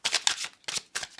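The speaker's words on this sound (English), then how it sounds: "Let me just shuffle it a little bit." Tarot cards being shuffled by hand, three quick riffling bursts up close with brief pauses between them and no talking.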